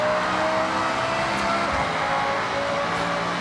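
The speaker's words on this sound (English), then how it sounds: "This might be one of the best sounding V10s in the game." A high-revving race car engine screams continuously at full throttle, loud and sustained with a dense, buzzing whine.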